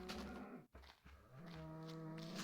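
Blocky cows in Minecraft mooing, several long low bovine calls one after another with a brief gap in the middle, close and fairly loud with no talking.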